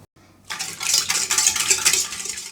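Yeast, warm milk, sugar, vanilla sugar and an egg are beaten in a mixer bowl, a bright busy rattling whir that starts abruptly after a brief quiet moment and runs on steadily.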